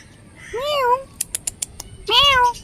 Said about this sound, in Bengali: এই ডালের মধ্যে একটা বিড়াল বসে রয়েছে